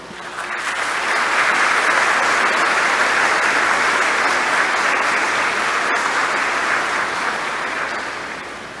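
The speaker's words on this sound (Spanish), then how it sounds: "Y le damos a todos ellos el más fuerte de los aplausos." A large graduation audience at a Class of 2021 ceremony breaks into sustained, loud applause that swells quickly, holds steady for several seconds, then begins to taper near the end.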